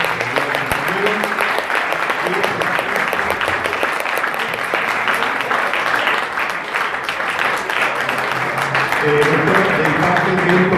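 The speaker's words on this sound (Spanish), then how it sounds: "un aplauso" An audience applauds at a university lecture hall event, a dense sustained wash of many hands clapping at full volume, with some voices mixed in near the end.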